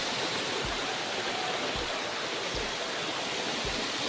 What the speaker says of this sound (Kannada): ಗಾಯ್ಸ್ ಇಲ್ಲಿ ನೋಡಿ, ಇಲ್ಲಿ ಹೇಗೆ ನೀರು ಬೀಳ್ತದೆ ಅಂತ.